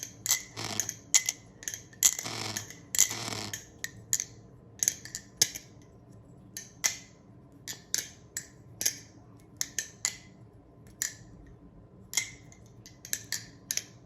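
Nabalis Impulse balisong knife being flipped, a quiet run of crisp metallic clicks and clacks in quick irregular rhythm, close and alone, with some faint rustling handling noise early on.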